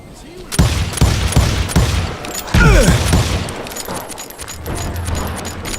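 Gunfire rings out in the Western shooter game Call of Juarez Gunslinger. Several loud close shots with ricochet whines and a burst of rapid fire cut over a music and effects bed, and voices are heard faintly.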